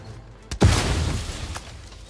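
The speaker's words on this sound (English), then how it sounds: "It's only one guy and a lot of grenades flying here non-stop." A grenade blast in the video game The Outer Worlds 2: one sharp pop, then a heavy booming burst that rumbles and fades over the next second, with a smaller crack shortly after.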